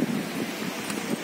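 Strong wind blows across an open farm field during summer field work, a steady, close roar with mic buffeting and no voices.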